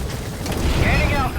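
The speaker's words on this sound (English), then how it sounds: "Let's go ahead and get on the chopper and leave the mission area." A military helicopter lifting off in Metal Gear Solid V, a loud whooshing rotor roar with rising turbine whine, close and continuous for a moment.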